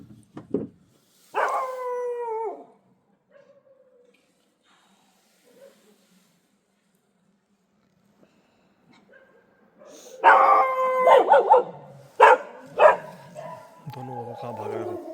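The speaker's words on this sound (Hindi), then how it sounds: "कुत्ते वापस से भौंकना शुरू किया अभी बाहर आके" Dogs bark and yip at night near a forest homestay by the Jim Corbett jungle, in a short burst, then a quiet gap, then a louder cluster of barks with someone speaking among them.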